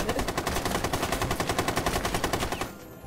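Rapid sustained automatic gunfire shooting open a hatch in Rainbow Six Siege, a dense even burst of close shots for nearly three seconds before cutting off.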